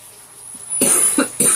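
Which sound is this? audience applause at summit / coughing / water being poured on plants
coughing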